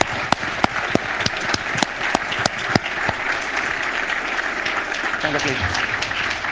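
An audience applauds the second-place team of a programming contest as they are called onstage, steady dense clapping with a few sharp louder claps standing out, while a voice briefly offers congratulations over it.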